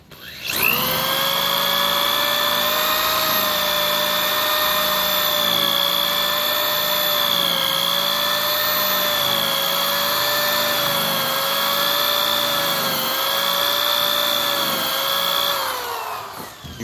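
A polishing pad buffs an aluminum wheel with a loud, steady high-pitched whine that holds for about fifteen seconds. It wavers slightly in pitch and plays alone without talk.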